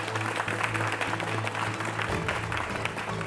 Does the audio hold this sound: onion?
no